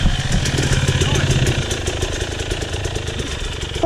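A motorcycle engine idles nearby with a steady, loud, rough rumble that runs throughout. Voices can be heard faintly in the background.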